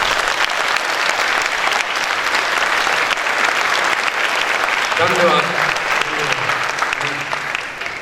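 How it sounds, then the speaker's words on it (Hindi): Audience applause after a stage play, a loud continuous crowd clapping throughout, with a voice briefly speaking over it near the end. "अगर अच्छा नाटक लगा है तो एक बार खूब जोर से ताली बजाइए।"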